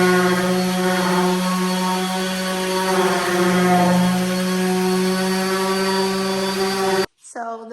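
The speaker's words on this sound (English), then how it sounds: "We're gonna give it one last sand before staining." A power sander running on wooden cabin railings, a steady tonal whirring hum that holds evenly for about seven seconds before cutting off abruptly.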